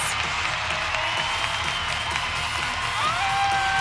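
A college gymnastics crowd at an Arizona State at Utah meet applauds and cheers after a floor routine, with dense, steady clapping and scattered whoops that keep going throughout.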